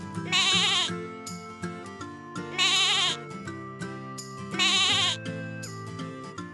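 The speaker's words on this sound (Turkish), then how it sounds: "Keçi, Ketri" A goat gives three long, wavering bleats at regular intervals, loud and close, over a light musical accompaniment.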